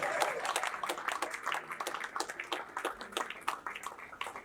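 Applause from a dinner-event audience, a dense patter of many hands clapping at steady, moderate volume with no talk over it.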